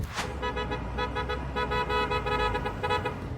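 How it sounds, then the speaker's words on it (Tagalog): Car horns honk repeatedly over a steady low traffic rumble in heavy snow, a sustained harmonic blare with short breaks, fairly close and loud. "mayat-maya ang busina ng mga sasakyan para maiwasan ang disgrasya sa gitna ng makapal na snow"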